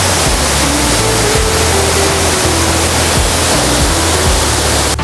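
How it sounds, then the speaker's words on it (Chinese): Songlongyan waterfall at Shanlinxi forest in Nantou, a 38-metre drop in full spate, roars as a loud, unbroken wash of white noise filling the whole clip, with a faint low engine hum beneath. "松龙岩瀑布"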